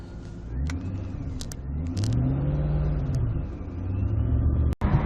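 A rare Ford GT40 driving, its engine rumbling and revving steadily up and down close by from inside the car, with a brief sharp click near the end and no talking.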